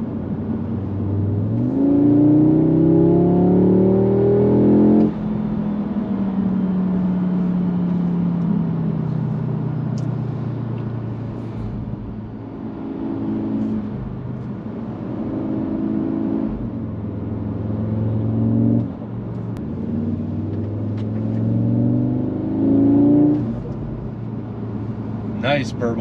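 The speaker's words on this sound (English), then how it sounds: "Nice burbles from the exhaust." A 2022 Audi S3 on Colorado mountain roads revs up through several rising sweeps, each followed by easing off and low exhaust burbles. The loud, close engine runs continuously throughout.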